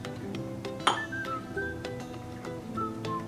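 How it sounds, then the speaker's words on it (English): A spoon clinks against a glass bowl while a vinegar marinade for turkey wings is mixed, giving one sharp close clink and a few lighter taps and scrapes. "And now let's mix it all together."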